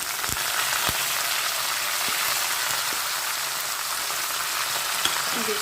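Chana dal, urad dal and curry leaves fry in hot oil for pulihora, making a dense, even, rain-like sizzle that stays loud and close throughout, broken by a few faint ticks of a utensil.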